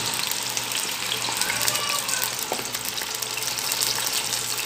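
Food frying in oil in a pan for a home-cooked lunch, a steady dense crackling sizzle running without pause throughout at a close, even level, with a faint hum underneath.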